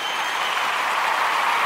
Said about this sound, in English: I want to give all of the Umoja babies a round of applause.